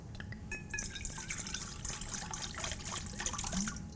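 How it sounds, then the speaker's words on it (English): Water poured into a stand mixer bowl for eggless fresh pasta dough, a close, steady splashing trickle with dripping and liquid gurgles throughout. "just put some water in it"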